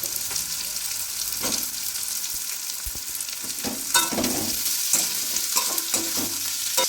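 Chopped onions and capsicum fry in a hot pan for chilli chicken, a steady broadband sizzle with bursts of scraping and stirring from a spatula, close and continuous, with no talk.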